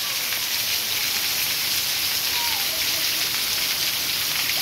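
A steady downpour falls at night in Amaniutuba, Ceará, a continuous loud wash of rain hitting surfaces nearby, unbroken throughout.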